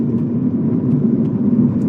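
A car engine hums as a steady, low drone from inside the cabin during a learner driver's first lesson, holding an even level throughout with no voices.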